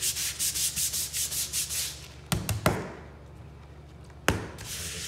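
Rhythmic back-and-forth scrubbing removes sealer from a Saltillo tile floor, about eight quick strokes that then stop, followed by a few sharp knocks and a renewed hiss of scrubbing, close up with no talk.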